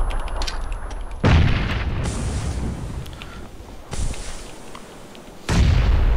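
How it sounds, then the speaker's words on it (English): Grenade blasts in the battle royale game PUBG on the Miramar map: several loud booming explosions with sharp onsets, spaced about two to three seconds apart, each trailing into rumbling debris and ambient game noise. "He threw another grenade."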